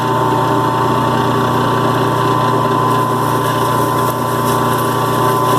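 CABKING 8-inch lapidary machine grinding stone on a fresh 220 grit wheel, a loud, steady motor hum with constant tonal drone and gritty grinding texture, close and continuous throughout.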